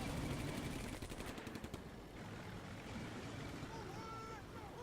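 Gunfire in a Combat Mission Beyond Overlord World War II tank battle between Shermans and a StuG. Rapid, rattling bursts dominate the first two seconds, then give way to a fainter, continuous battlefield rumble.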